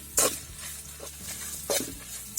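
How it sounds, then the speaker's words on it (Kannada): Coriander fries in a pan for marwai pundi masala, with a steady sizzle and two louder scraping stirs against the pan. "ಇದು ಒಟ್ಟಿಗೆ ಫ್ರೈ ಆಗಬೇಕು."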